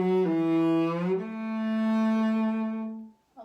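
A solo cello played close with the bow in a Scherzo shifting passage: a full, sustained note slides smoothly upward into a long held tone that fades out near the end.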